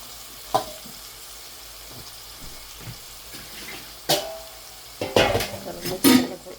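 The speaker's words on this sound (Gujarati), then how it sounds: "મસાલા સાથે પાકવા દેવાનું છે." Ridge gourd curry simmers with masala in a pan, a low steady sizzle broken by a few sharp stirring scrapes and clinks of a spoon against the metal, no voices.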